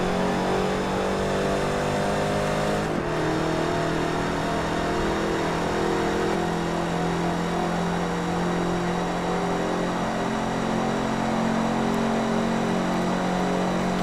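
Race cars in Forza Motorsport 3 drone steadily with sustained engine revs, a dense mid-pitched roar of several cars running close together throughout, no voices.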